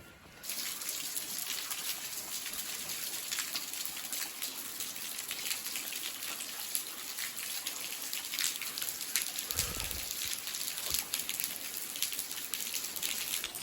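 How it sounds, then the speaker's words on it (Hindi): Steady rain falls outdoors at a mountain temple in Jibhi, a dense, even hiss of drops with no talking, and a brief low thump partway through. "बारिश स्टार्ट हो गई है, और मैं थोड़ा सा भीग भी रहा हूँ।"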